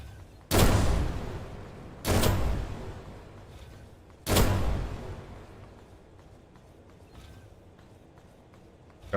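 Gunfire in a video game: three loud, sharp shots about two seconds apart, each with a short ringing tail, followed by quieter background ambience.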